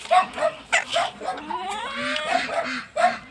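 A dog barks repeatedly and loudly nearby in short yelping bursts while herding poultry outdoors, with whining and a voice in between.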